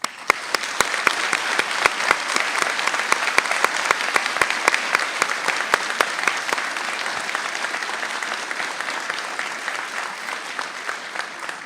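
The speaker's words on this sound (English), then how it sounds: "we'll end with a final big round of applause for everyone" A large audience applauding at the close of a veterinary white coat graduation ceremony, dense sustained clapping that stays loud throughout before slowly thinning toward the end.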